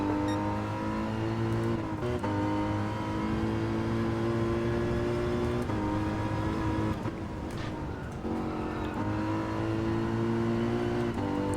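Race car in Gran Turismo 7 driving steadily, a loud continuous engine note holding high revs with brief dips at gear changes or braking around two and eight seconds, then climbing again, close and alone with no talk.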